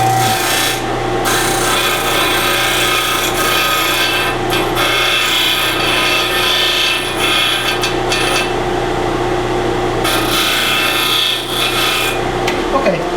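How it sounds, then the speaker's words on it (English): A disc sander smooths a cut wooden piece for a scroll saw blade removal tool, a loud, continuous close grinding hum with brief pauses in pressure and no talk. "turn the disc sander on,"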